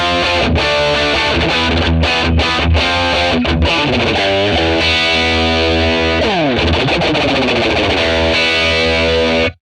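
Telecaster played through a Fender 1957 Tweed Bassman amp model with reverb off, a loud, heavily driven rock passage of chords and riffs with a few brief pauses and a slide, ringing steadily for nearly ten seconds with no voices.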